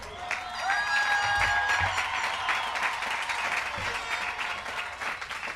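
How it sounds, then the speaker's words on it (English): A high school graduation crowd applauds the class of 2023, broad sustained clapping with horn tones sounding over it and a few scattered cheers. "Let's give them a nice round of applause."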